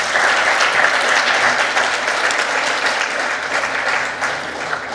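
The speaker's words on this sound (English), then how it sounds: "Can we have a round of applause because they've worked very hard also." Audience applause at a startup and scale-up pitching event, loud, dense and sustained throughout with no gaps, a faint voice barely present underneath.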